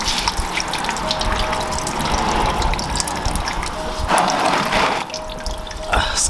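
Old coolant pouring out of a Honda Integra's drain, a steady gushing splash of liquid into a container, close and continuous without speech.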